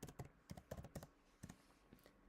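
Fingers typing a website address on a computer keyboard, a short, quick run of close, crisp key clicks in small bursts, then a brief pause and a few softer taps.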